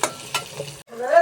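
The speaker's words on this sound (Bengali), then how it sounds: "তো মশলাটা আমি খুব ভালোভাবে কষিয়ে নেব।" Ground spices with chilli powder and cumin powder being fried and stirred in a pan, a short sizzle with scraping stir strokes, close, pausing briefly before rising again.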